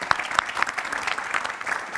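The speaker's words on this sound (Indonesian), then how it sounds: "Tepuk tangan untuk Pak Habib." Brief applause from a studio audience on a political talk show, a short burst of scattered hand claps at moderate distance, fairly soft and thinning over two seconds.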